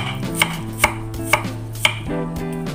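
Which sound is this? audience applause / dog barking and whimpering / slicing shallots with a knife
slicing shallots with a knife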